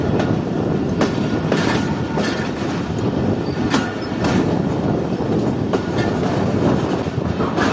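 Jand passenger train rolling along the rails, a loud continuous rumble of wheels and carriages with recurring clickety-clack joints and occasional squeals, close and steady throughout with no voices.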